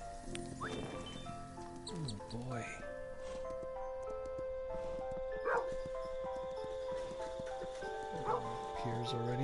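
A dog barks in the video game Kingdom Two Crowns, a few short barks scattered over steady game music while a person talks throughout.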